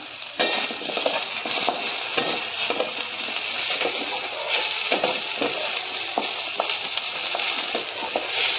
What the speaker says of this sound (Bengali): এবার একটু আলুটাও একটু ভাজা হবে, আলুটা ভাজা হোক